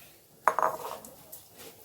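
A spoon knocks and clinks against a pan while semiya vermicelli is stirred in ghee, a short cluster of metallic taps near the mic, otherwise quiet.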